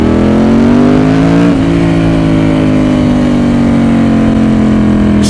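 A Ducati 916 motorcycle engine held at high revs, bouncing off the rev limiter in a loud, sustained, buzzing drone with a brief dip and recovery, close up and with no voices.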